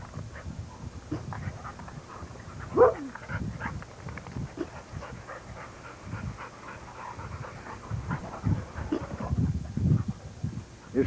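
A muscular female dog in a backyard pants and whimpers close by, with occasional soft snorts and movement noises and no clear barking.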